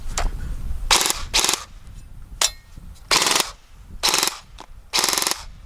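G&G Cobalt Kinetics BAMF airsoft gun firing full auto, several loud rattling bursts of rapid mechanical shots separated by short pauses, close and alone.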